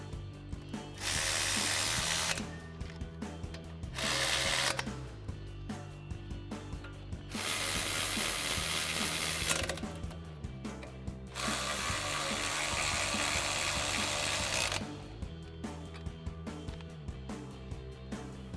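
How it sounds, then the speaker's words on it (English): A ratchet with a 10mm socket tightens bolts during a ReadyLIFT 4-inch suspension lift install on a Sierra 1500: close, steady clicking in several long runs, with brief hisses of handling noise between them. "And we'll tighten these 3 down with our 10mm socket, and then this one with our 11mm socket."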